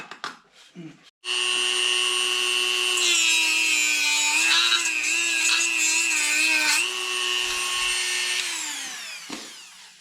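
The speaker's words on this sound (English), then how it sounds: "Wow, the Dremel tool is the trick." Dremel rotary tool cutting through the thick steel wires of an ATV tire: a sharp, high whine that starts abruptly, wavers in pitch as it bites, then winds down, with brief handling noises before and after.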